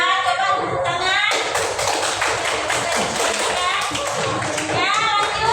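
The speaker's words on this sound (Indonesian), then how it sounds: "Dari kelompok 3 coba tepuk tangan." A classroom group of students claps hands together, brisk uneven tapping under overlapping voices of children and a teacher talking.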